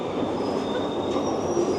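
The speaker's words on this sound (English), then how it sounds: "the old trains, which are loud and creaky and rickety" An old, loud, creaky train running on rails: a steady, close, heavy rumble with a thin, high wheel squeal drawn out over it.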